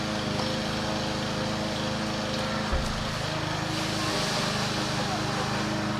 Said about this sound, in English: She's mowing.